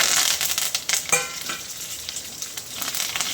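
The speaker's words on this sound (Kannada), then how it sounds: "ಈಗ ಒಣಗಿದ ಮೆಣಸಿನ್ಕಾಯಿ ಹಾಕೋತಾ ಇದ್ದೀನಿ" Dried red chillies, chana dal, urad dal and curry leaves sizzle in hot oil for a capsicum chutney tempering, a steady crackling fry with a few louder pops and stirring scrapes, close and alone.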